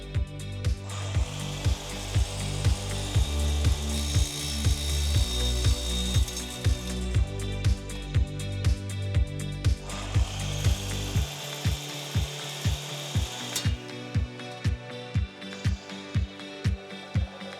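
Pins for a steam-bent wooden lamp base are cut down and polished on a drill press, giving a loud, rhythmic rasping and grinding that repeats in even strokes, then shifts to a lighter, sparser pattern partway through.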